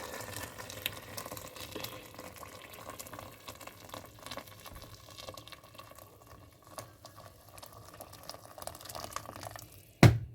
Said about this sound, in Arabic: وهنا غنمرق بالماء غليان ان شاء الله.